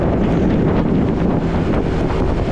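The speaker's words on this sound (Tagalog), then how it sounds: "Pasensya na ho sa hangin, malakas." Strong wind roars continuously, buffeting the microphone with a loud, dense rumble and no break, near the seaside in Cebu.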